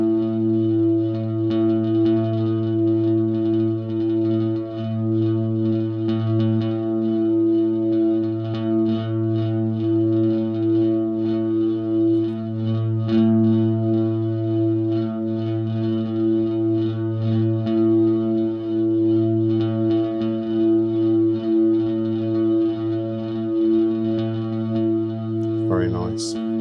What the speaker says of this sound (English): so that was the super giant reverb.